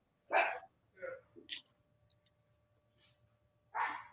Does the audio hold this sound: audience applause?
no